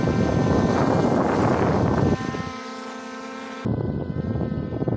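Strong desert wind buffets the microphone outdoors, a loud continuous rumbling roar with a steady whine mixed in, briefly easing midway before surging back.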